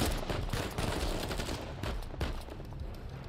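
Gunfire in the video game Uncharted 4, a dense burst of rapid shots and loud action noise that fades somewhat toward the end, with no speech over it.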